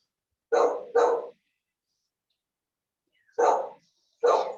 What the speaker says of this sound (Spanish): El perro está hablando.